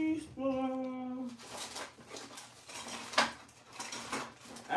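A teaspoon pulled from a cutlery drawer in a home kitchen: a bright ringing clink at the start, then scattered metallic rattles and clatter of silverware, moderately close, with no voices.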